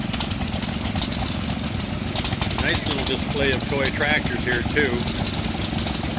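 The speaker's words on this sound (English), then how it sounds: "We got a little engine over there pumping water." A small stationary gas engine pumps water at an antique tractor show, its steady chugging carried under continuous nearby talk and crowd noise throughout.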